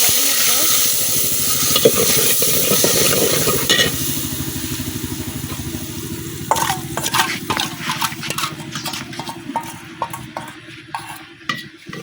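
Onions with spices sizzle and get stirred in a pan over a village cooking fire, with steady frying hiss, scraping and clinks of a utensil against the pan, continuous and fairly loud.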